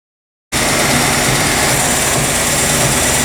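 Engine of a 1957 Chrysler 300C with plugged-off oil connections running at a steady idle after a cut-in start, loud and close with a constant rumbling drone and no talk.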